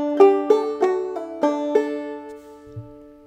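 A single measure of Logan County Blues on clawhammer banjo: five or six plucked notes and strums ringing out, then the strings fade, followed by a faint low knock.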